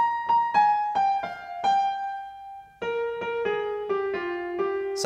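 A bright melodic instrument plays the next phrase of a tune alone, a short run of clear, detached notes that steps downward, pauses, then continues lower, heard close and unaccompanied.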